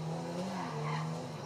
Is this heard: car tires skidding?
yes